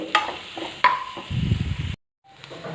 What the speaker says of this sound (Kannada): ಈಗ ಇಲ್ಲಿ ನೋಡ್ತಾ ಇದ್ದೀರಲ್ಲ, ಇಷ್ಟು ನಾವು ಚೆನ್ನಾಗಿ ಫ್ರೈ ಮಾಡ್ಕೋಬೇಕು.